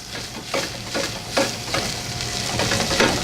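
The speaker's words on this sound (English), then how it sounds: "And let that saute for a little while." Smoked, seasoned tasso pork sautés in a pan, a steady close sizzle broken by several sharp scraping stirs, with no one talking.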